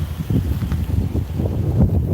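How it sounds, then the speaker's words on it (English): Low rumbling buffets of wind batter an outdoor microphone, producing steady gusty noise throughout with irregular surges. "sorry guys, I know it's windy right now"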